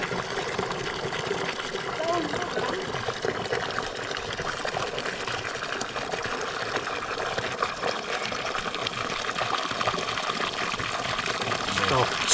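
Water from a 30-stage borewell submersible motor pump gushes and splashes steadily into a container as it fills 15 litres, a continuous pouring rush with someone talking over it.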